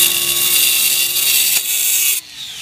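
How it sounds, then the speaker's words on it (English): Angle grinder with a diamond blade cutting through wire rebar at a structural collapse rescue drill, a loud steady high-pitched grinding whine lasting over two seconds before cutting off abruptly. "If we have wire rebar, the grinders come in handy for this."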